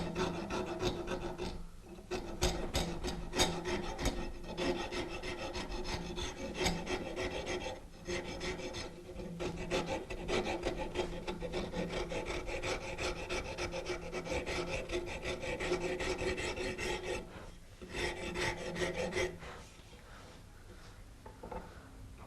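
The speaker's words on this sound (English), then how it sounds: "that'll pretty much finish up the rasping" A woodworking rasp files a hand-carved wooden ball and claw foot in steady, continuous scraping strokes, close and dense, with a few short pauses between passes.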